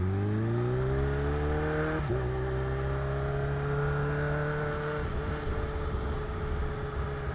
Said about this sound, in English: Ooh, listen to that exhaust.